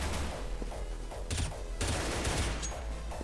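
Gunfire from the CS:GO video game: dense, continuous rapid-fire bursts crackling loudly throughout, with heavier volleys toward the end and no voices.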